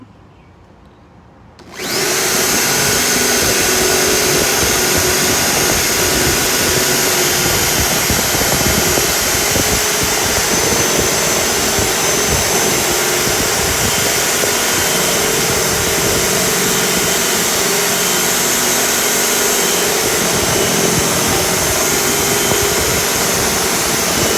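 A 1.5-inch Forstner bit bores votive candle holes into a wooden block, starting after a brief quiet moment and then grinding steadily and loudly without a break, with a close, continuous whine of the drill motor.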